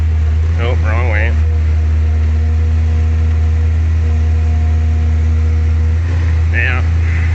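A tractor engine idles steadily on a snowy winter day, a loud, close low drone with a constant hum throughout, while someone talks briefly over it at the start and near the end.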